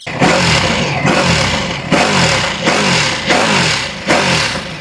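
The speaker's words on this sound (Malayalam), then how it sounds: "ഇതിൻ്റെ എക്സോസ്റ്റ് ഓട്ടും കൂടി ഞാൻ കേൾപ്പിച്ചുതരാം." Powerful high-end motorcycle, India's most powerful on sale in Kochi, revved hard in repeated bursts, its exhaust note climbing and dropping about every second, loud and close with no talk.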